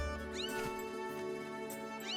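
A cat meows in Zelda: Skyward Sword HD, a couple of short rising mews over a steady soft game music backdrop.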